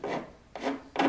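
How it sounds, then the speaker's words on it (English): A metal file rasping across a wooden bow tip to round it, three short close scraping strokes in quick succession with brief pauses between. "I just use the file and just get it"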